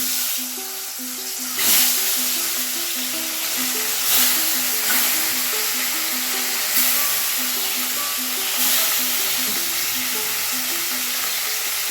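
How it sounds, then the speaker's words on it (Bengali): Small charapona fish frying in oil in a wok: a steady, close sizzle runs the whole time, with a few louder stirring clatters every couple of seconds and no talk. "মাছগুলো ভাজা হচ্ছে"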